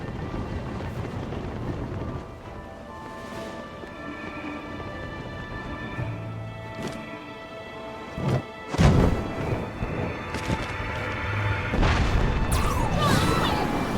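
A bomb arrow explodes in Zelda: Tears of the Kingdom, one sharp booming blast that rises out of a dim game soundscape, followed by rumbling debris and rising whooshing noise.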